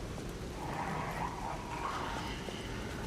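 A puppet dog enemy in Lies of P, faint whining and yipping dog-like vocalisations over a low game soundscape, soft and somewhat distant.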